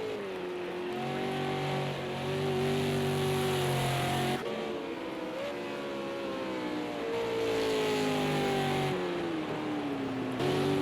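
Race cars circle a racetrack at a night event, several engines droning and shifting pitch together as they pass and rev, loud and continuous with no talk over them.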